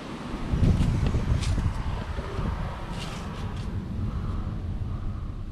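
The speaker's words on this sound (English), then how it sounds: "it's a really, really, really windy day out here" Strong wind blows outdoors on a very windy day by trees, making a loud low-pitched rumble and microphone buffeting that is strongest near the start and then settles into a steady roar.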